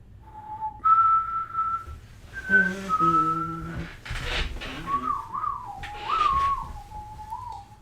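Someone whistles a melody up close, with held notes and sliding pitch bends, loud and clear against quiet background.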